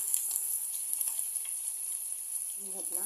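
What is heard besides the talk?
chopped onion and curry leaves sizzling in hot oil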